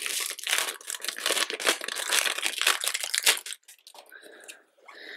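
A plastic bag of K-pop photocards crinkles and rustles loudly and steadily for about three seconds as it is opened and rummaged, then gives a few softer, sparser crinkles at close range.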